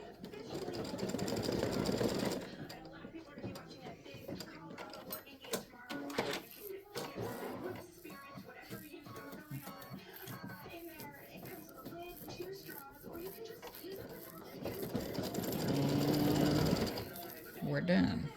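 An embroidery machine stitches a Halloween witch's mouth in orange thread, its fast rhythmic needle chatter running close and continuous, with a person talking over parts of it.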